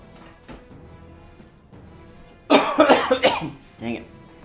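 A burst of harsh, repeated coughing up close, following a quieter stretch with faint sounds, then one more cough.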